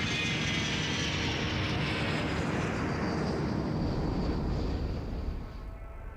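A steady, loud jet roar from a team of seven RAF aerobatic display aircraft manoeuvring on the runway at the Fairford air show, heard from one aircraft, dropping slightly near the end.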